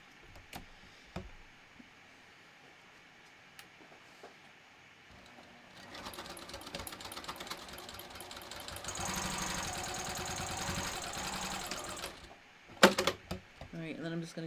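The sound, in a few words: sewing machine top stitching wallet card slots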